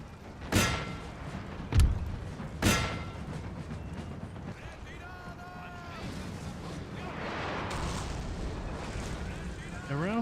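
Artillery guns fire in the Napoleon Total War video game: three heavy booming shots about a second apart early on, followed by quieter battle noise and a person talking over it.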